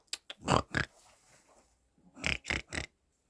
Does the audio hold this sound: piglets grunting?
yes